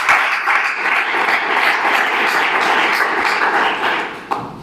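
Steady applause from a church congregation during a Spanish-language sermon, a dense wash of clapping that holds evenly and fades slightly at the close, with one sharp tap near the end.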